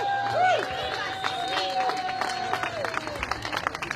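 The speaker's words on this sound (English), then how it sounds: "Let's hear an 18-foot round of applause for them." Crowd applause at an outdoor public menorah lighting in Springfield, New Jersey, for an 18-foot menorah: a broad, steady wash of clapping and some cheering that carries through the whole stretch, with voices mixed in.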